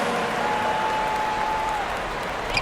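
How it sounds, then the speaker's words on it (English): A basketball arena crowd applauds during a Chicago Bulls versus Dallas Mavericks game, giving a steady, even wash of clapping and crowd noise throughout with no clear talk. "One more big round of applause,"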